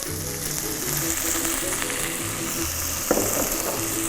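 Shallots, jalapeño peppers and garlic fry in rendered chorizo fat in a pan, a loud continuous sizzle with one brief clatter of stirring near the end and no voices.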